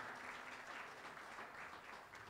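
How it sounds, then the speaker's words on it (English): Church congregation applauding during a Sunday morning service, a steady, dense wash of many hands clapping at moderate distance, continuous throughout without breaks. "Give yourself a round of applause."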